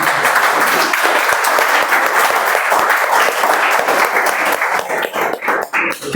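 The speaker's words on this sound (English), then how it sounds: "Huge round of applause for our test speaker for the contest, Toastmaster Shailu Srivastava." An award-ceremony audience applauds with dense, sustained clapping that thins out toward the end.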